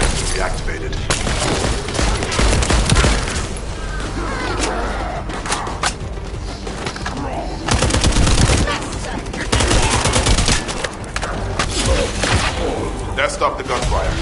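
Gunfire in the video game The First Descendant on PS5, dense bursts of rapid shots and booming impacts throughout, loud and close, with clusters of heavier volleys and game voices mixed in.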